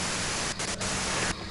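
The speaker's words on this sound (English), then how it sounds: "you can do it through the white noise." Radio white-noise static from the video game Disco Elysium hisses loudly and steadily, briefly dipping twice, then dropping in level near the end.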